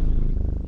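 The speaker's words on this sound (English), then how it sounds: "He's literally purring into the microphone." A pet cat purrs right against a microphone, a brief, close, low rumbling throb with fast even pulses and no other sound.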